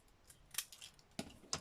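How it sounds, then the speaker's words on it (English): Small decoupage tweezer scissors snip paper in a quiet room, making about four crisp, close, light clicks with short pauses between them. "I'm pretty sure they were called decoupage tweezer scissors or something of that ilk."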